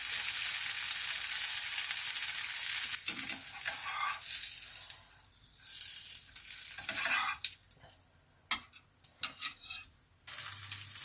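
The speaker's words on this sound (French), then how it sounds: "Je termine la cuisson de mes galettes." Buckwheat and carrot-top galettes frying in a pan: a bright, loud sizzle that rises and falls, broken by scraping and clinks of a utensil against the pan, with no talking.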